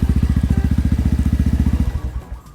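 A Honda MSX 125 converted to CRF dirt-bike style with a modified exhaust and a 56 mm piston revs hard and close, pulsing rapidly for about two seconds before dropping to a lower idle.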